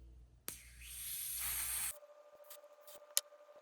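Aerosol product sprayed evenly over a synthetic lace wig in one long close hiss of about a second and a half, followed by quiet handling sounds and a sharp tap.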